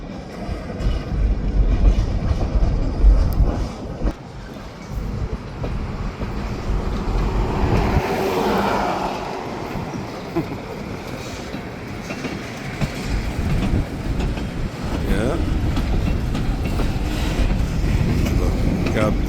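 A freight train pushes loaded boxcars during switching, its wheels rumbling and clacking steadily and loudly nearby with occasional squeals, while a person talks over it at times.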